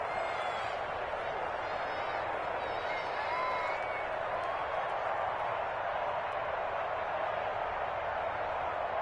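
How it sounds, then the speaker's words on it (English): A stadium crowd in a PS4 football video game roars steadily ahead of a big third down, a dense, constant wash of cheering that holds at the same loud level for the whole stretch. "the crowd getting into it as we come up on a big third down"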